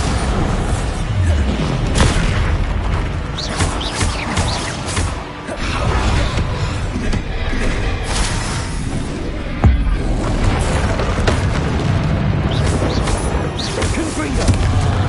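Bombarda explosion spell battle in Hogwarts Legacy: repeated booming blasts and crashing impacts over a steady rumble of combat noise, with a sharp loud burst partway through and faint voices mixed in.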